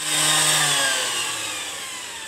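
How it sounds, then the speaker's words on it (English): A power sander runs against the edge of a wooden penny hockey board, a brief close whirring buzz that fades slightly as it smooths the corners. "We're just running around the sander to smooth out the lips and edges and any of the corners and stuff so we have a nice, smooth, rounded edges."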